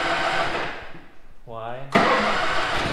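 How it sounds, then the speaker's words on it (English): A small engine on a used machine, its carburetor gummed up, cranks with a rising whir for about half a second and then catches into a loud running roar, with voices around it. "Little Bob's coming to life."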